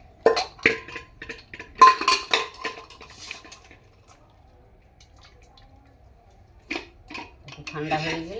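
Boiled young jackfruit being tipped out of a pressure cooker, with metal clanks and scraping against the pot, splashes and drips of water, then a quiet pause followed by more clatter, close by.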